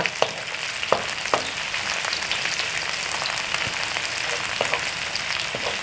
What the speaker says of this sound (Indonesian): kita tumis sampai keluar eh, bau harumnya